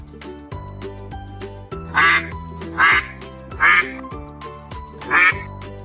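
A duck quacks four times in evenly spaced bursts, each loud and close, riding over a steady bed of background music.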